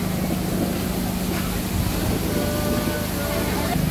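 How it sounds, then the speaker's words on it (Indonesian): Artificial waterfall running over a glass panel at a zoo exhibition stand, a continuous broadband rush of falling water that holds steady throughout, with faint background voices underneath. "Konsep dari ruang ketiga ini air terjun di atas kaca ya teman-teman."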